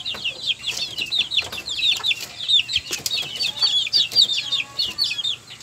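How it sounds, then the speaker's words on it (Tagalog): Chickens cluck in a small backyard coop, a busy close chorus of short repeated clucks and calls continuing throughout, with no one speaking. "Ito ngayon is manok lang muna ipapakita natin."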